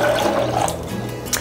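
About four cups of filtered water pour steadily into a blender for homemade almond milk, a continuous close splashing gush that tapers toward the end.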